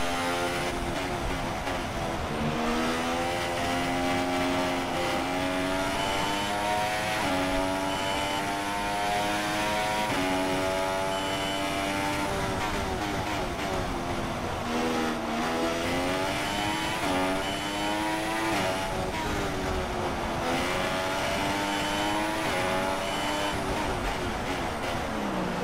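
Formula 1 race car engines in the F1 2016 video game at the Australian circuit, a loud continuous high-revving whine that rises and drops with gear changes throughout, several cars in close company.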